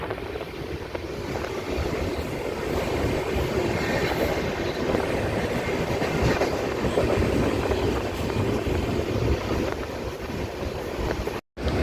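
The 12052 Jan Shatabdi Express runs on the Konkan Railway from Ratnagiri toward Dadar, heard from on board as a steady loud rumble of wheels and carriage with wind rush, ending in a brief dropout.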